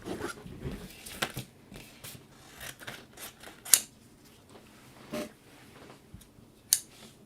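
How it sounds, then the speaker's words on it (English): Scissors snipping through alcohol ink paper, a series of separate sharp cuts with rustling paper between them, close and fairly quiet with no talk. "I'm going to go ahead and cut off some of these places just because they may still be wet."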